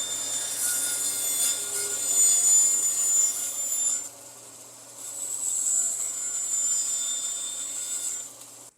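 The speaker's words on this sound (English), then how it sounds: "I'm going to just cut a notch." Hand saw cutting a notch into a broken guitar headstock during repair, a steady close rasping stroke sound that pauses briefly midway, then resumes alone without talk.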